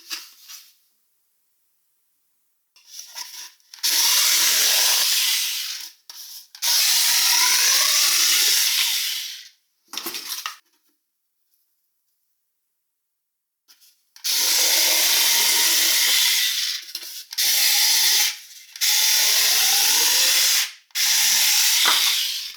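Parkside PMSA 4 A1 cordless 4V multi-cutter slicing through cardboard of several thicknesses, loud close buzzing cutting bursts of a few seconds each, separated by pauses of near silence.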